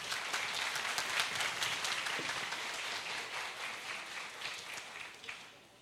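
A seminar audience at an entrepreneurship and startup event applauds to welcome a colonel to speak, a dense, even wash of many hands clapping that holds steady and tapers slightly near the end.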